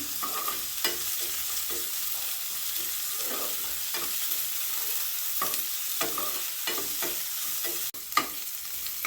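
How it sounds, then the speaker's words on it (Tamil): Chettinad kara chutney ingredients with chopped curry leaves sauté in a pan, with a continuous soft sizzle and repeated scraping stirs of a spoon, close and without talk. "நல்லா வதக்கிக்கிடலாம்."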